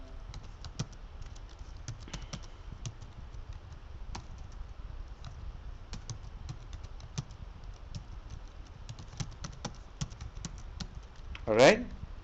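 Steady clicking of a computer keyboard as someone types a program, quick irregular keystrokes close by, with a brief louder clatter near the end.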